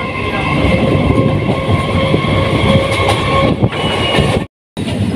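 A Haldia Fast EMU local train on a Howrah to Tamluk run rumbles loudly from inside the carriage, with steady wheel clatter and hum, a brief cut near the end, and no voices.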